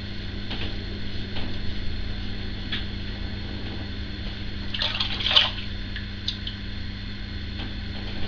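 A safety razor is rinsed under running water while shaving, giving a steady low wash of flow with scattered taps and clicks and a brief louder splash near the middle, with no voices.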